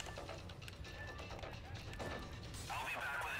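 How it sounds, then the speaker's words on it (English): Glass smashed repeatedly during a Payday 2 heist, a series of sharp crashes and shattering bursts mixed with game noise and talking voices. "I'm breaking all the glass if you want to grab stuff."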